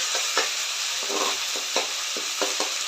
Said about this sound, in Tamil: இஞ்சி பூண்டு பேஸ்ட்டு சேர்த்து நல்லா வதக்கிக்கலாம்.